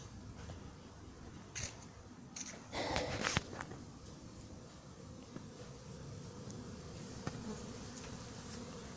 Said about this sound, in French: ici les abeilles ont fini par s'habituer à passer devant